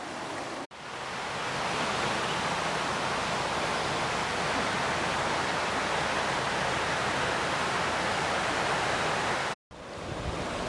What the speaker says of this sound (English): Creek's definitely high and carrying a lot of sediment